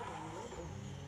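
A drift car's engine in limp mode, repeatedly hitting a very early rev limiter during a pro-am drifting qualifying run. It gives a steady, muffled, distant engine drone.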